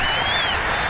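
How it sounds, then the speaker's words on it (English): Sideline clapping and crowd noise at an American football game involving Cleveland, a steady dense wash of applause holding at an even level for under a second. "That's why you hear that clapping on the sidelines, right?"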